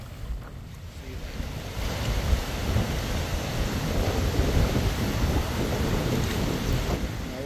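Wind blows beside a UK canal during a bream fishing session, a steady, loud low rumble of gusts buffeting the microphone throughout, with no voices.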